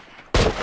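A single loud, close rifle shot in The Last of Us multiplayer, a sharp crack that breaks a quiet moment and rings on briefly.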